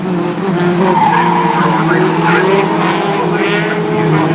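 A racing truck's engine roars steadily while tyres squeal and skid continuously through a drift at Brands Hatch, loud and close, with faint commentary underneath.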